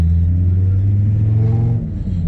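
A car driving out of the Santa Pod drag strip, its engine giving a close, steady low rumble that shifts slightly near the end.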